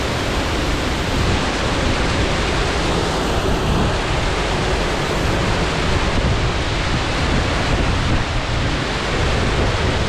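The overflowing Baritis stream near Demati rushes after heavy rain in February, a loud, constant roar of fast water that fills the whole stretch without a break.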